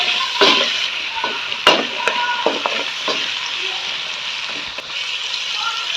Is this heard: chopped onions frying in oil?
yes